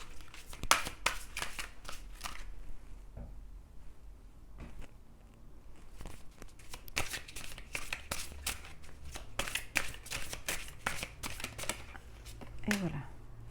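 Tarot cards are shuffled close by, giving bursts of crisp riffling and snapping with short pauses between them, as a reader draws an advice card.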